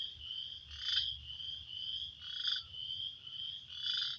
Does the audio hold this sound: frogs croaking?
yes